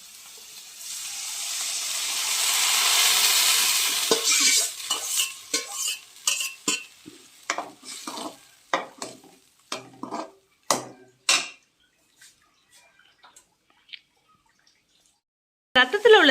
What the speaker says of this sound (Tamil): அந்த சுண்டி வர வர நம்ம கையை விடாமல் நல்லா கிண்டிக்கிட்டே வரணும்